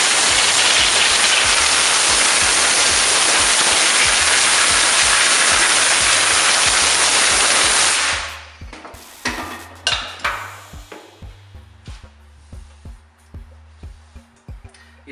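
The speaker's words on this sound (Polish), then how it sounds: "Jak będziecie psikać powietrzem" Compressed air blasts water off an aluminium alloy wheel being refinished, a loud continuous hissing rush for about eight seconds. Afterward come a series of short, softer puffs and clicks.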